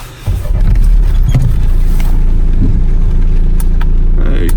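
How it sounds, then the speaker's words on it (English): A Renault Megane Mk3 engine with an injection system fault cranks and catches, then settles into a steady, loud idle that rumbles close by. "Let's start the car."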